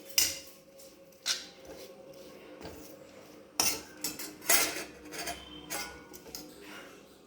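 A spoon scrapes and clinks against a bowl while cucumber salad is mixed with crushed peanuts, with several sharp metallic taps and rattles spaced irregularly between quieter stirring.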